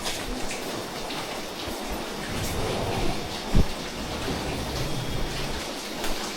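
Steady rain falls outdoors in a rural village, a dense, even hiss with a few louder drops and knocks scattered through it.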